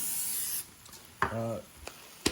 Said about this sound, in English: I'm gonna give these another spray down